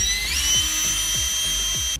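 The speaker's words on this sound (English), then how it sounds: "So let's go ahead and drill some holes." A power drill whines steadily at high speed as it bores holes into a plastic armrest MOLLE storage panel for a Toyota 4Runner, with a few low clicks and knocks underneath and the drill cutting off at the end.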